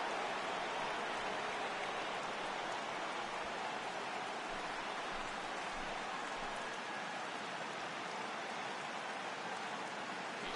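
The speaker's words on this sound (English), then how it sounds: "the rain's starting to intensify here. It's coming down a little heavier now." Steady, dense rain pours over a ballpark in the baseball video game MLB The Show 18, a continuous broadband hiss that holds even throughout, with no voices or other sounds breaking through.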